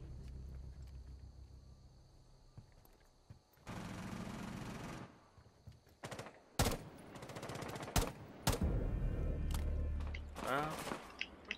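Video game gunfire in bursts of loud shots and rapid automatic fire, separated by quieter gaps, with a player talking.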